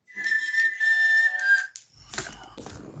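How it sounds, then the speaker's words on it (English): A person whistles a clear, sustained high tone for about a second and a half, then the sound gives way to faint shuffling room noise. "Oh, that might be somebody whistling to say my time's up."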